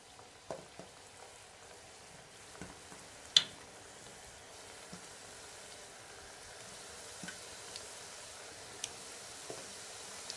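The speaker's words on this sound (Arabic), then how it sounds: "من بعد ما سخنات الزيت غادي نضيفو الحلوه ديالنا تقلى" Pieces of Moroccan pastry dough fry in hot oil, a soft steady sizzle and crackle with scattered small pops and one sharper spatter, heard close with no talking.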